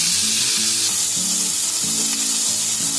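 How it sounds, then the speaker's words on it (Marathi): Onion frying in oil for misal, a continuous bright sizzle with a repeating low tonal hum pulsing underneath, close and steady for the whole stretch. "तेलामध्येच आपल्याला कांदा फ्राय करायचा आहे"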